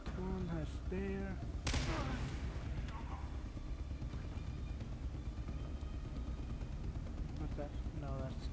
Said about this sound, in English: that's just a Kalashnikov